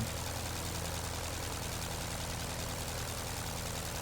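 Engine of a Curtiss JN-4 biplane in Microsoft Flight Simulator, flying over Maine; a continuous, even, droning hum with a low throb, steady and unchanging throughout with no voices.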